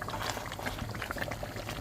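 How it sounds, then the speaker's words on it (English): Nigerian vegetable stew (efo riro) bubbles in a pot, with a dense, quiet pop and gurgle of boiling liquid that goes on without a break, close up and with no voices. "So we're going to stir it now"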